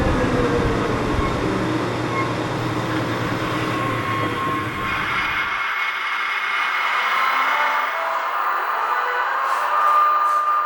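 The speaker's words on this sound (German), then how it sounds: "Und natürlich der Fahrdieselmotor in verschiedenen Drehzahlstufen." A shunting locomotive's diesel engine runs at changing speeds, a heavy low rumble and drone that shifts partway through to a thinner, higher whine. It is steady, close and loud, with no talking.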